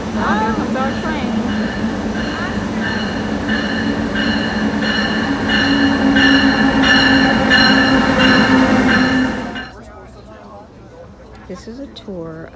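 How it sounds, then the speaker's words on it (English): An Amtrak train pulls into a station, a loud sustained rumble with tonal squeals and clatter that builds and then drops away, while people talk excitedly over it. "Oh, here comes our train."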